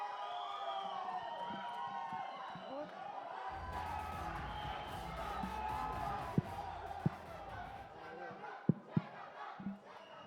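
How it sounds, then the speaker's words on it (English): Audience at a film trailer launch for Shehzada cheering and applauding as director Rohit Dhawan takes the stage, a loud crowd roar with shouts and a few sharp claps, under an announcer's voice. "the loudest round of applause for Rohit Dhawan"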